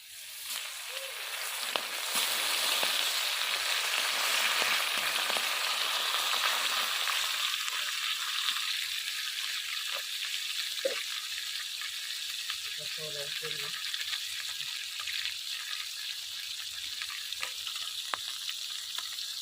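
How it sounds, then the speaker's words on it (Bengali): Spice-coated bata fish frying in hot oil, a loud, continuous hissing sizzle with scattered pops and crackles, close up, with a brief faint sound from a person partway through. "এবার মাছগুলো আমি ভেজে নেব"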